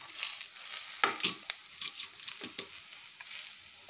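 Beans and chana dal stir-fry with coriander stirred in a pan, a steady soft scraping and light sizzling with a few sharper spoon knocks, close and alone.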